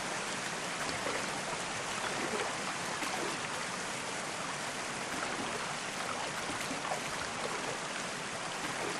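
Rushing whitewater in the Whitewater VR extreme kayaking game, a steady broadband hiss and roar of flowing stream water that continues evenly throughout, moderately loud and without talking.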